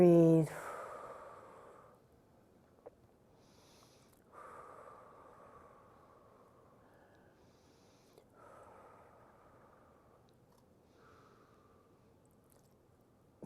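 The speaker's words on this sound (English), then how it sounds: "And breathe." Slow, deep breaths held in a lying yoga pose, each one a soft, airy hiss lasting a couple of seconds, separated by quiet pauses, close and gentle.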